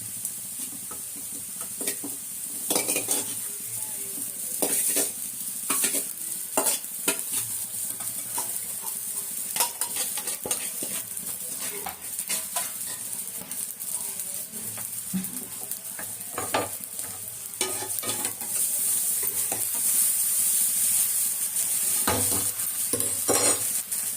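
Cooked rice being stirred and fried with vegetables in a hot pan for vegetable fried rice, a steady sizzle broken by repeated scraping and clinking strokes of a spatula over about twenty-four seconds, with no talking.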